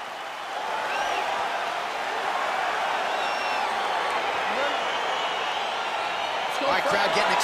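An arena crowd in the UFC 4 video game roars steadily at the start of a featherweight fight, a broad, continuous wash of cheering with a few whistles rising above it.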